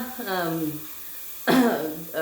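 A woman in a home kitchen coughs and clears her throat in short, harsh bursts. A longer throaty episode comes first, and a sharp cough follows after a pause, with speech-like sounds in between.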